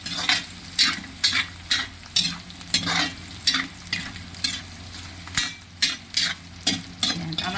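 Pork for Bicol express stirred and fried in oil in a pan: a continuous sizzle broken by a steady run of scraping spatula strokes about every half second, close and fairly loud, with no talking.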